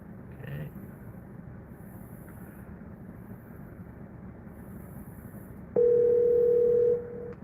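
A steady telephone dial tone sounds clearly for about a second during a phone call, following quiet background hum and a faint murmur of a voice.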